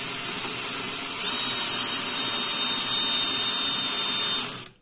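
Electric drill boring steadily with a hand-sharpened 2 mm twist bit, a loud continuous high-pitched whine holding for about four seconds before cutting off abruptly.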